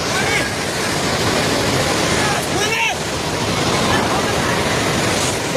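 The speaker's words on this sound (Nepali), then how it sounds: "पानी नजिक आइसकेको छ" The flooded Trishuli river rushes in a loud, steady, broadband roar that never lets up, close and filling the whole scene, with a faint voice briefly rising above it.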